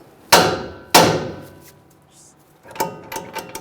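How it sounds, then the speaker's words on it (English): Two sharp metallic hammer strikes ring out close by on a strut nut on the steering knuckle of a 2011-2018 Ram 1500, each decaying quickly, followed by softer clinks and taps. "just use a hammer and just give it a tap"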